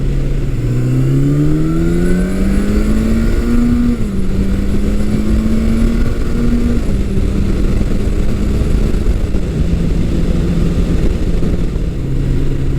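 A vintage Suzuki GS motorcycle with a 16-valve head, its engine revving loud and close, pitch sweeping up through the gears and then holding at a steady high drone.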